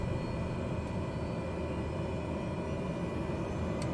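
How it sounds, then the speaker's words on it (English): Turboprop engine of a Cessna 208B Grand Caravan starting up in the flight simulator MSFS 2020, a steady, full droning hum and rumble held at an even level throughout, with no voices. "We will hear the ignition kind of pick up here."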